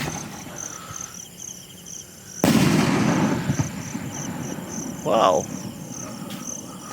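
A JLJ brocade firework bursts with a sudden loud blast followed by a crackling, fading tail, heard from fairly close over night crickets chirping steadily, with a voice speaking briefly afterward.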